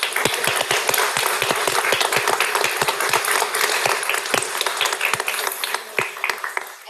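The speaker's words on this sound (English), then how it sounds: "Let's have a round of applause for our graduates." Audience applause at a Guiding Eyes for the Blind guide dog school graduation in Yorktown Heights, NY: dense, steady clapping from a sizable crowd, loud and continuous for several seconds with sharp individual claps standing out.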